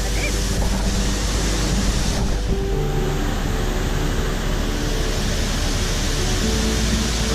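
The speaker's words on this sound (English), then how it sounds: "we're up at the top of the waterfall" Cortez Waterfall in Costa Rica, heard from the top as a steady, loud, broadband rush of falling water that continues unbroken throughout, with no voices.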